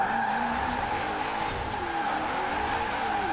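A BMW M5 E39 drifting in a video game gives a continuous tire squeal over a steady engine drone, sustained at moderate level throughout.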